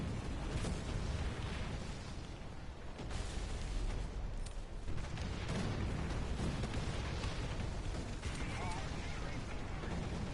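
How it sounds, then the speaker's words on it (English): Artillery fire in the video game War Thunder lands as a constant heavy rumble with repeated booming blasts and bursts throughout, dense and loud; a voice is faintly present in the mix. "They're shooting artillery at us."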